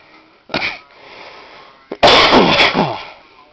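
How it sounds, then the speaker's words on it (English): A person coughing up close, one short harsh cough followed after a pause by a louder, longer hacking fit, with no other voices. "cover your mouth when you cough."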